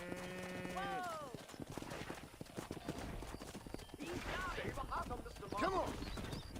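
Horse hooves clip-clop at a steady gallop in the Red Dead Redemption western video game, with a horse neighing and a man calling out over the hoofbeats.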